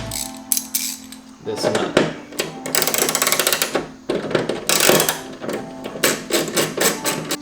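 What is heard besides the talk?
10mm socket ratchet unscrewing a nut on a BMW F30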